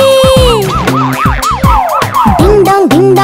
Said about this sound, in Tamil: சைரன் ஒலியுடன் மருத்துவமனைக்கு சாலையில் ஆம்புலன்ஸ் விரைகிறது.